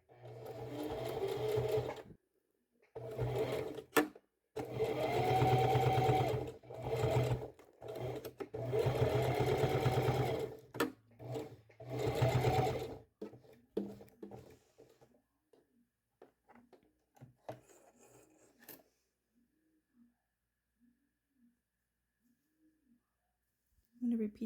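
Domestic sewing machine stitching and backstitching a pajama top seam from a Simplicity S9019 pattern, several steady motor-driven bursts of close needle chatter separated by pauses, with a few quiet clicks trailing off into near silence.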